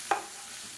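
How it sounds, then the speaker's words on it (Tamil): Pumpkin, radish and drumstick pieces sautéing in a pan for sambar, one short scraping stir followed by a soft continuous sizzle, close and fairly quiet. "இப்போ இதையும் சேர்த்து வதக்கிக்குவோம்."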